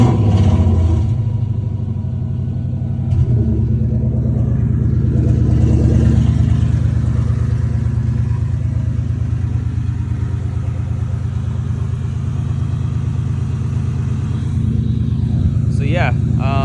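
A car engine runs close by in a steady, deep idle for most of the stretch, with mild revving swells and a short higher whine near the end.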